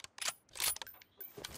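Gun reload in PUBG Mobile, a quick run of mechanical clicks and metallic clacks from the magazine and action, brief, crisp and fairly quiet.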